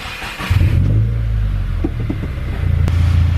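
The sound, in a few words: Subaru WRX car engine starting and running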